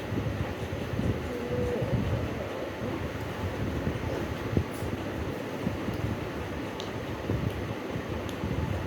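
A train rolls past with a steady rumbling, rattling roar throughout, a few faint clicks and squeaks over the continuous noise.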